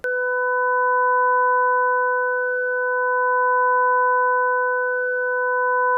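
A steady sine-wave tone from a MiniMoog Model D app, amplitude-modulated into a slow tremolo that swells and dips about twice in six seconds, with a couple of clean harmonics held throughout.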